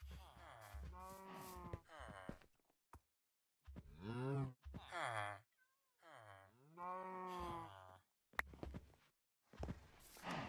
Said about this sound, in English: if you milk a mushroom cow, you get mushroom soup.